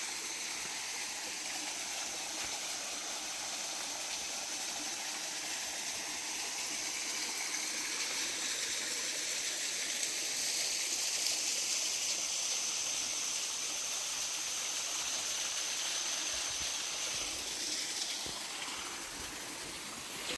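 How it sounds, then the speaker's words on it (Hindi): A small forest waterfall rushes in a steady, even hiss and splash that continues without a break for twenty seconds, with no talking. "वहाँ पे खड़े होकर देखता हूँ कैसा लगेगा झरना"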